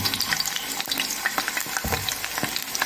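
Potatoes hiss and crackle as they fry in hot oil, a close, dense sizzle with scattered pops and scrapes throughout and no talking.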